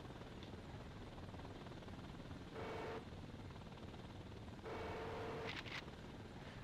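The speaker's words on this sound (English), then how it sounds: "I probably should not be this close to the ground, but I have the helicopter" A helicopter in the video game Thunder Helix flies low over the ground, its rotor giving a steady whirring drone with two short louder surges partway through.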